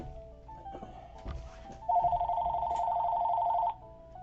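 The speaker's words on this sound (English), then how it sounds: "forgive my office line is ringing here on a Good Friday" An office landline telephone rings nearby, giving one steady electronic trill of nearly two seconds after a few faint clicks and shuffles.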